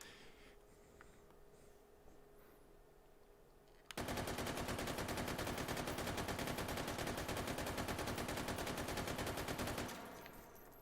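Gunfire from a weapon blasting a target in the VR shooter Pavlov VR: after a few quiet seconds, a loud, rapid automatic burst runs for about six seconds, then stops abruptly.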